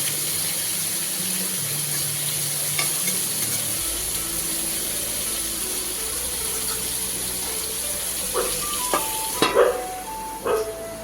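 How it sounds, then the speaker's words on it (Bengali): Steady sizzling hiss of bitter gourd and pointed gourd frying in hot oil in a kadai, with a few clinks and scrapes near the end. "সেই তেলের মধ্যে করলা আর পটলটা ভেজে নেব"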